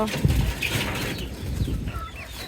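Several chickens cluck and murmur close by in a coop, a steady, crowded chorus.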